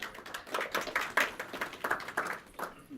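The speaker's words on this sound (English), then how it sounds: "that's like the best golf clap I've heard" A small group at a business talk claps lightly and politely for a few seconds, soft scattered claps with no cheering.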